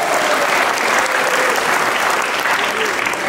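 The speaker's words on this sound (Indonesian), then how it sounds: "Tepuk tangan." Steady applause from a university audience after a speech at a student orientation event, dense and continuous for a few seconds, with crowd murmur mixed in.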